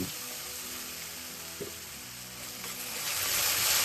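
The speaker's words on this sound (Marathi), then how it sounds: "तेल सुटेपर्यंत ही जी पेस्ट आहे मस्तपैकी मंद आचेवर फ्राय करायची" Tomato paste for paneer butter masala frying on low heat, a soft close sizzle with a faint crackle and one brief knock, growing slightly louder toward the end, with no talk.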